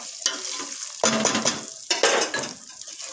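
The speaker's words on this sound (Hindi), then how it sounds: "अब इसमें हम ऐड कर रहे हैं किडनी बीन्स, अब इसको ऐड करेंगे और उसके बाद इसको हल्का सा पकाएंगे" Boiled kidney beans tumble into a hot pan for Himachali madra, scraping and stirring in bursts over a steady sizzle, close and fairly loud with no talking.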